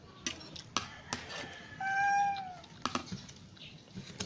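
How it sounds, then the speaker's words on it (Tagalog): A cat meows once, a rising then falling cry, amid scattered knocks and handling sounds in a home where a meal is being made. "May pusa kasi dito"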